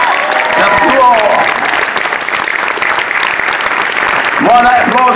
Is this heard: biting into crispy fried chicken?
no